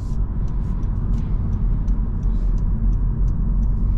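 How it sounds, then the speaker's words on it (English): A 2024 Honda Civic cruising on a highway: steady, loud low road and engine rumble with tyre noise filling the whole stretch, no talk over it. "So we're gonna hop on the highway and we'll see how this Civic will do."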